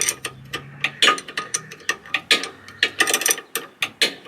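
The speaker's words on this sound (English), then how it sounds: "put this Allen wrench in the socket and loosen up this nut" A ratcheting Allen wrench in a socket loosens a nut on a rear STI sway bar of a Subaru Crosstrek, giving rapid close clicking ratchet bursts in uneven runs, with no voices.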